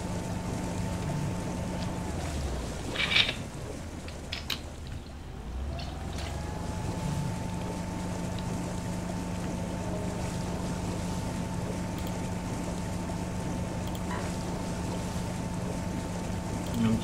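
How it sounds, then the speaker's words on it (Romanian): A boat motor in the video game Watch Dogs 2 drones steadily and loudly, mixed with wind and water noise and a brief dip in the engine tone. "Hai să venim cu barca și aici."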